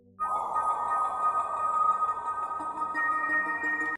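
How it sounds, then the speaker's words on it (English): A sustained drum and bass synth soundscape layer plays alone, a steady bright tonal pad that holds for about four seconds after an abrupt start, with a few higher tones added near the end. "We could call this some soundscape."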